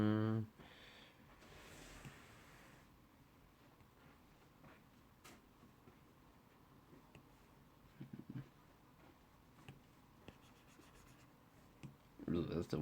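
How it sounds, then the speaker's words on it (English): A stylus taps and scrapes across the glass screen of an iPad Pro while drawing, giving faint, sparse clicks and soft scratchy strokes at close range, with a few louder bursts near the start and end. "you can hear the clacking of the pen on the screen"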